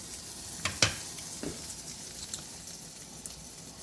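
Breakfast food sizzles and fries in a new pan, a soft steady crackle with a few sharper pops and a scrape or two near the start, close and fairly quiet throughout.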